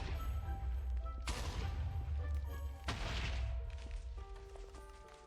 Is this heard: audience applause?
no